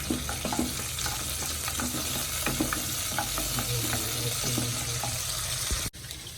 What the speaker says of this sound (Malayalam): കടുക് ഉലുവ നന്നായിട്ട് പൊട്ടി വരണം